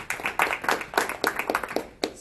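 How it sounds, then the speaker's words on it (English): A short round of applause from a small meetup audience, a few distinct hands clapping unevenly for about two seconds. "round of applause for James for organizing this"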